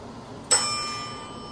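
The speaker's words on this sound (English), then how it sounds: "It was the clear mechanical chime of an elevator bell" A single clear mechanical elevator bell chime strikes once and rings out with a bright, sustained tone that slowly decays into near silence.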